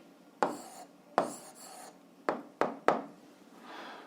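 A pen writing an answer in a notebook, with several short strokes and scratches at an uneven pace, close and quiet, with no talk.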